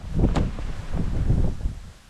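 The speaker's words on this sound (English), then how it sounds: "Really, really windy." Strong wind buffets the microphone in steady low rumbling gusts over open Iowa countryside, with a rustling roar that swells and eases over a couple of seconds.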